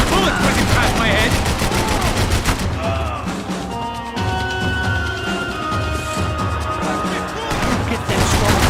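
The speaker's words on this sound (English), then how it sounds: "I can't concentrate with bullets whizzing past my head." Bursts of automatic gunfire and bullet impacts in the shooter Max Payne 3, loud and close, easing off midway before picking back up, mixed with game music and effects.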